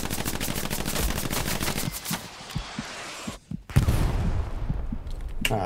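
Artillery and gunfire roar in a Hell Let Loose battle. Dense, rapid bursts fill the first two seconds, scattered shots and booms follow, and a heavy blast near the end is loud and close.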